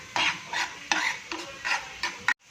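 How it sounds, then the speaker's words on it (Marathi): Onion with green chillies and salt stirred in a pan over a high flame on a gas stove, a series of about six scraping stir strokes, close and steady, with sizzling underneath before an abrupt stop. "थोडासा फास्ट गॅसवरती कांदा परतून घेते"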